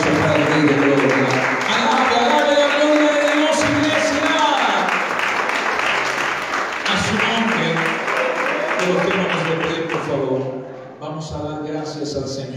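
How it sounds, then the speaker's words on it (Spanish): A church congregation applauds strongly and continuously while a voice speaks over the clapping throughout, the ovation dipping briefly near the end. "bríndele nuevamente un fuerte y bonito aplauso para el Rey de Gloria"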